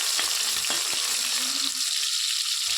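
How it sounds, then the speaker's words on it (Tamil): Garlic and dried red chillies fry in hot oil with a loud, dense sizzle, while a spoon scrapes and taps the pan in a few quick strokes early on; nobody speaks. "பூண்டு போட்டு வரமிளகாய் போட்டு ஒரு கிளறிட்டுங்க."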